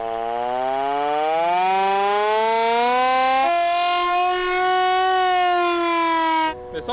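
A very loud siren like a civil defense siren, sounded from a track car, wails in a steady rising tone for several seconds alone, then cuts off abruptly.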